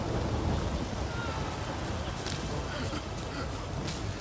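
Steady rain with low thunder rumble in The Witcher 3 game world, a dense continuous wash of rainfall throughout with no distinct individual claps.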